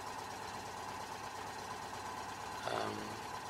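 Small car engine idling steadily with a low constant drone, sharing its engine with the Citroën 2CV but slightly more powerful, plus a brief louder bump near the end; no talk.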